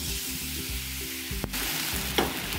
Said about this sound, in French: on déglace avec un fond de volaille